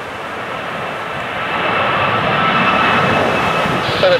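An aircraft landing on runway 25 at Newcastle Airport during Storm Ophelia's gusty winds, a loud continuous engine roar mixed with wind that swells midway and holds steady.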